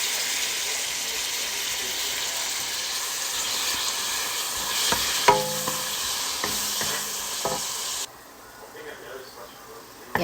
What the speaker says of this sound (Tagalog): Ginisa ko na yung sibuyas. At kamatis.